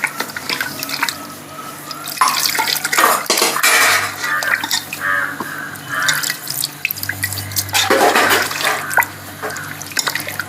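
Water is poured into a cooker of seasoned beef, a steady splashing flow with clinks of metal utensils and drips, close and continuous for about ten seconds.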